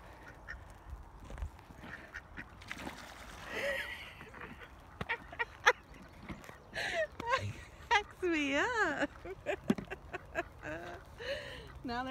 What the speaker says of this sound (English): this duck is pretty funny. He can really go after some food when you toss it to him.